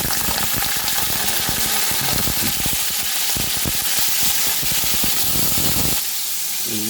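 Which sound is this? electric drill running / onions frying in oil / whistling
onions frying in oil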